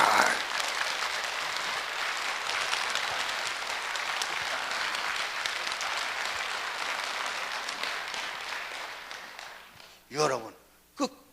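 A church congregation applauds in a dense, sustained clatter of many hands that slowly fades, followed by a few short bursts of voices at the end.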